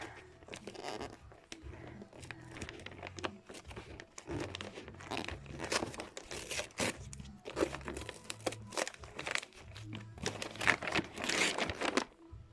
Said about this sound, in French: on va le retourner et on va le déballer